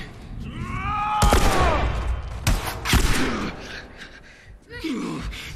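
Gunfire and combat in The Last of Us, played in Grounded mode, with sharp bursts of shots between strained gasps and groans, a loud close mix broken by brief pauses.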